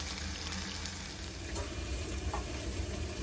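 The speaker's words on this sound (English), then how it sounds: "I'm cooking the veggies in the same oil as the tofu" Vegetables frying in oil left from cooking tofu in a pan, a steady close sizzle with faint crackles and a brief stirring scrape, alone without talk.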